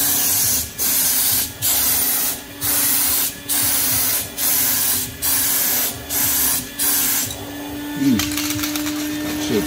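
A spray gun applies paint to a 1996 Cadillac Fleetwood inside a garage, sounding as a series of loud hissing bursts in an even rhythm, followed by a steadier hiss and a faint hum.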